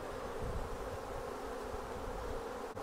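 Honey bees drone steadily at an open hive of pollination colonies just back from California almond orchards, a dense continuous buzz close by with no voices.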